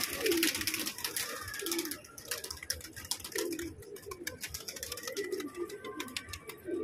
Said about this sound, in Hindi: कबूतर जाल में जा रहे हैं।